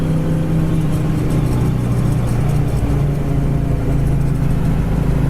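A 1970 Chevelle cruises down the road, its engine drone and road rumble steady and loud from inside the car, with no voices.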